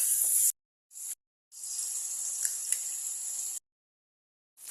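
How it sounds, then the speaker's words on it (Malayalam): Garlic paste dropped into a hot pan for a banana flower cutlet: a bright, hissing sizzle heard in close bursts, the longest lasting about two seconds, separated by clean gaps of silence. "വെളുത്തുള്ളി പേസ്റ്റ് ഇട്ട് കൊടുക്കാണ്"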